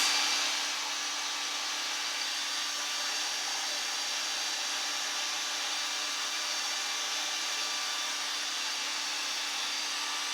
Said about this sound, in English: I'm going to use my hairdryer more than my heat tool